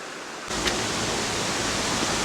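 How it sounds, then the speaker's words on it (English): A waterfall feeding a creek beside a pull-off on Highway 100 in Vermont, partly iced over with snow in winter, roars as a steady broadband rush that starts abruptly and continues loud and unbroken. "over here, feeding the creek, is a waterfall"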